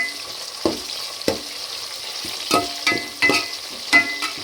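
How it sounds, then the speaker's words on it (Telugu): Tomato pieces, green chillies and curry leaves are stirred in a frying pan of hot oil, giving a continuous sizzle broken by several sharp scraping and clanking strokes of the spoon against the pan. "టమాటా ముక్కలు ఇందులో వేసుకొని రెండు రెమ్మల కరివేపాకు వేసుకొని కలుపుదాం"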